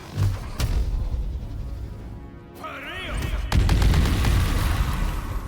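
Spectral apparitions from a magic scroll spell strike targets in Baldur's Gate 3, a heavy gunfire-like blast hitting at the start, then a louder barrage of booming impacts rolling in near the end.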